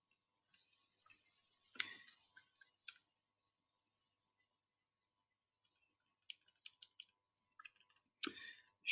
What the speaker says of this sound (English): So I'm typing in shift sine on my calculator right now.